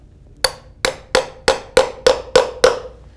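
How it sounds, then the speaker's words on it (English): Probes tapped into timber bridge piling with a hammer: eight sharp, evenly spaced metallic knocks in quick succession, close and clear, with no talking. "It's a simple tapping in process."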